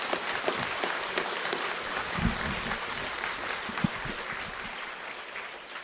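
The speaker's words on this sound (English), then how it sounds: "If you're going to clap, clap with everything you've got." An audience at an evening Buddhist talk breaks into dense, sustained clapping that fills the whole stretch evenly, with a few louder individual claps standing out from the crowd.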